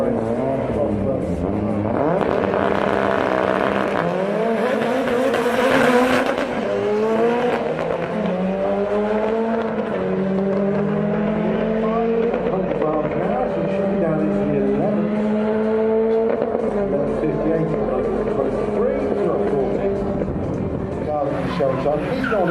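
At Santa Pod drag strip, a four-wheel-drive Ford Escort RS with a Cosworth engine races a Sierra RS Cosworth, with loud, continuous engine roar and rising revs that run almost without a break beneath ongoing talk.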